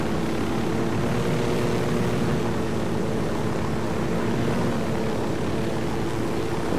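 Aircraft flown in the video game Ghost Recon, a steady engine drone with a low propeller-like hum holding at an even, loud level throughout, with no speech.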